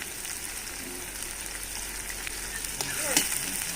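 Chopped onion and ginger frying in hot oil in a pan, a steady close sizzle with a few soft scrapes of stirring near the end.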